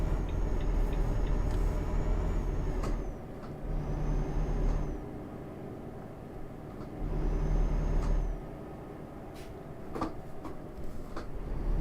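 Air brakes on a truck in Euro Truck Simulator 2, several hissing releases standing out over a steady low engine rumble, with quieter gaps between the louder braking bursts.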